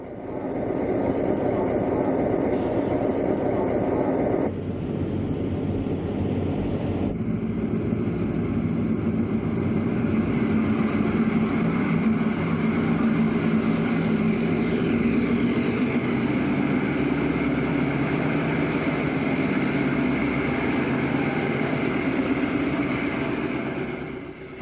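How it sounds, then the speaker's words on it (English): An RSD-9 diesel locomotive rumbles loudly and continuously while switching a train at a crew change point. Its engine tone shifts at a couple of moments as the load changes, and no voices are heard. "An RSD-9 also goes to work to rearrange the train."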